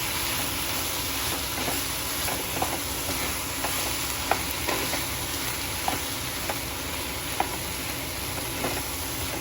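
Spice paste and water being mixed into a cauliflower curry in a hot pan: steady loud sizzling and hissing throughout, with faint, irregular clicks of a spoon stirring close by and no talk.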